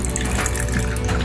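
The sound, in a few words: pouring leftover water into a glass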